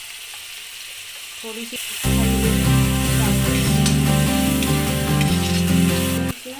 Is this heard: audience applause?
no